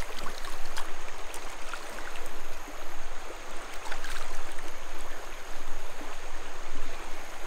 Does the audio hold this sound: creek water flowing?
yes